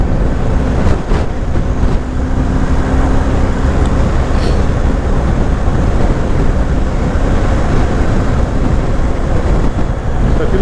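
BMW R1250 GS Rallye motorcycle accelerating on the road, its engine roar loud and continuous, blended with heavy wind rush throughout.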